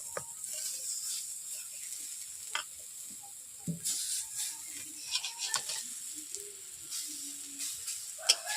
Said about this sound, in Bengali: এরপর বড় ভাজা রান্না করার জন্য আমি এরকম গোল করে বসিয়ে দিচ্ছি